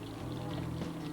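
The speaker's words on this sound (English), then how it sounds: "Stanford, we got the waterfall running now." Water from a garden waterfall spills over fieldstone beside a man-made boulder amid woodland plantings, a steady, soft, continuous splashing rush with no voices.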